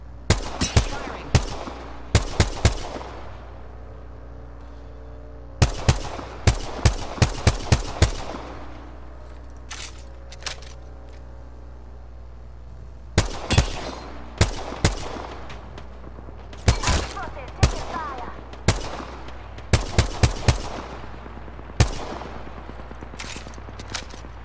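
Gunfire in the video game Apex Legends, likely from a G7 Scout rifle: sharp, loud shots in rapid clusters of several rounds separated by short pauses, repeating over a steady low engine-like drone, with no voices.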